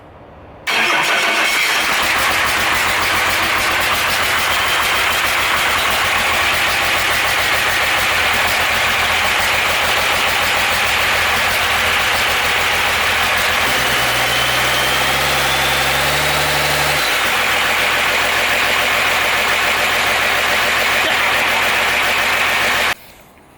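A Cummins diesel engine swapped into a truck idles loudly and steadily, with a brief shift in its low rumble partway through, then stops at the end.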